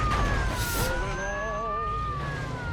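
A police car siren wails in rising and falling tones while chasing the player in the Mafia II game, steady and fairly near over the hum of a car engine.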